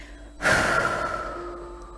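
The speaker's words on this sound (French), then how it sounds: "vous allez prendre une grande respiration et souffler fort" One forceful breath blown out sharply, loud at first and then trailing off into a long, fading exhale.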